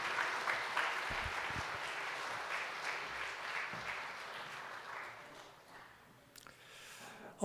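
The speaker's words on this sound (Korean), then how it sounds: "우리 다시 한번 축하의 박수를 보내겠습니다" A church congregation claps in congratulation during a Sunday morning service, dense steady applause filling the room and tapering off near the end.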